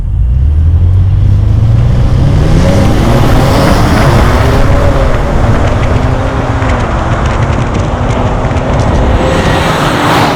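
A 600-horsepower Lincoln Navigator SUV, a three-ton vehicle in excite drive mode, launches hard from a brake-boosted standstill; loud, continuous engine roar climbs steadily through rising pitch with heavy wind and road noise, recorded from inside the cabin.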